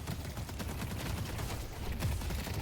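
Turret gunfire in the video game Deadlock, a dense, continuous rattle of rapid shots that runs without pause, loud and close throughout.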